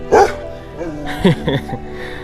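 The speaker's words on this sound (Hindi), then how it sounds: "यहाँ पे 2 डॉग्स और हैं, रॉटवेलर।" Two Rottweilers at a jungle safari camp bark nearby, a few loud deep barks and short yips spread unevenly, mixed with some whimpering.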